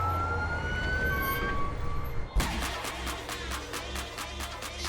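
An ambulance siren wails in a rising and falling tone, then gives way to a steady pulsing warble from inside the moving vehicle. It is fairly loud and continuous over road rumble.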